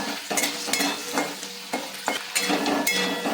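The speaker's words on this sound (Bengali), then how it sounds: "প্রথমে আলুটা দিচ্ছি সামান্য একটু নুন দিচ্ছি এবার ভাজছি" Potatoes with a pinch of salt fry in a pan for upma, a steady close sizzle broken by several scraping stirs and clinks of a utensil against the pan.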